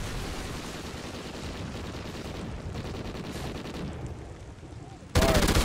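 Continuous rapid gunfire rattles throughout a video game firefight, dense and loud, dipping briefly before a sharp louder burst near the end; voices talk underneath.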